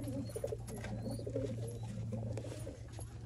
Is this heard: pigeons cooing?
yes